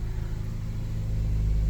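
An old abandoned beater car's engine idles just after starting, a steady low rumble that swells slightly louder toward the end, close and with no voices.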